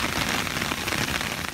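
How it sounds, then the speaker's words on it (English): Heavy rain pours steadily during a severe storm in the Carolinas, a dense, constant hiss of drops pounding surfaces close by, with no voices. "Grainy cell phone video not distorting the sound of rain flooding creeks and rivers."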